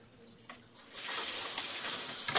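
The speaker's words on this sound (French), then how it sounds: "Moi, je commence à faire la vaisselle." A tap is turned on and water rushes steadily into a sink, preceded by a few soft clatters of dishes.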